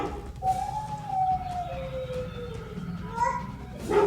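A dog sound played by an Alexa smart speaker, heard as a wavering, howl-like tone with a siren quality that rises and falls over about four seconds against a busy, noisy background.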